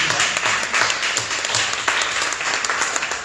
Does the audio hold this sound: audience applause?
yes